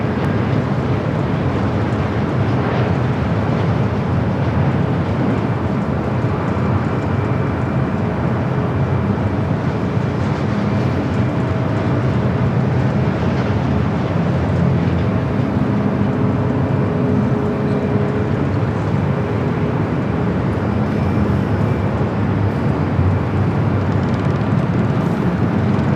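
A Delta Airbus A321neo arriving at LAX gives a continuous, even jet rumble with a whining edge, steady and fairly loud from start to finish with no voices.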